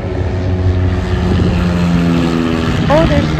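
A small propeller airplane speeds up on a mountain takeoff roll, its engine droning loud and steady from inside the cockpit, with a pilot talking over the noise.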